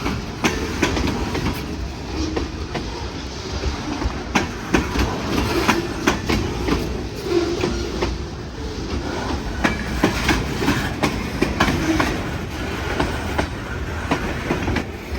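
A freight train carrying center-beam lumber loads rolls past near Toledo, a loud continuous rumble with rhythmic clickety-clack of wheels over rail joints and occasional faint squeals, no voices.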